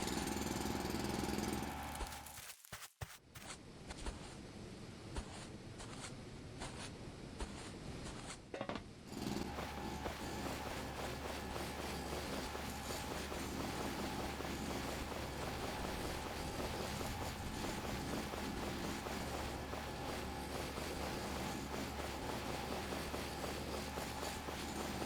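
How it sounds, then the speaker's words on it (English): Drilling out ground in the video game Foundry, a continuous harsh mechanical rattle with a brief break near the start, then a steady grinding drone throughout. "I'm going to drill out under here"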